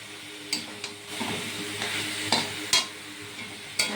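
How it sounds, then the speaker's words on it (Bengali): Boiled potato is stirred into a thick banana flower curry in a pan, a soft sizzle under a few sharp scraping and clattering strokes of the spatula, close by with no voices. "এবার এটাও সুন্দর করে আলুটাকে মিশিয়ে নেব।"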